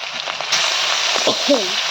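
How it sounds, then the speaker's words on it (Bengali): Steady hiss of hilsa fish frying in hot oil in a wok, close and continuous, with a faint voice murmuring underneath. "ইলিশ মাছ ভাজবো তেলটা কড়াইতে দিয়ে দিছি"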